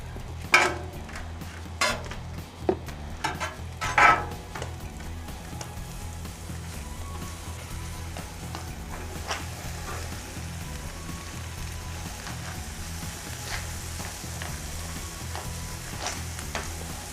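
Peppers frying in a pan for venison Philly cheesesteaks, a continuous close sizzle with several loud scraping stirs and utensil clacks in the first few seconds, then steady crackling with occasional pops and no talk.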